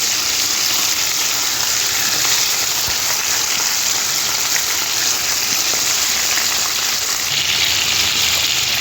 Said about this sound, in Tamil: ஹை ஃப்ளேமில் வச்சு நல்லா வறுத்து எடுக்கணும்.